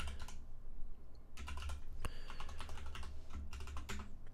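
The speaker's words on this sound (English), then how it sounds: "just type my password in again" Someone types a password on a Mac computer keyboard, producing quiet, close clusters of quick key clicks separated by short pauses.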